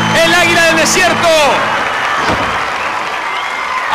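Children at a wrestling show clap and cheer loudly for a wrestler's entrance, a dense burst of applause and shrill young voices whooping, with an announcer's amplified voice over the start.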